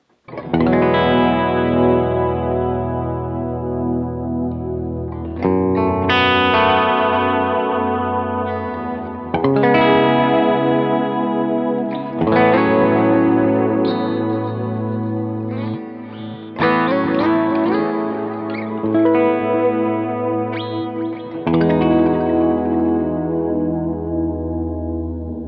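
Electric guitar played through a Keeley Halo delay pedal, loud sustained chords and notes ringing out with lush repeating echoes and chorus-like shimmer, several phrases in succession with no talking.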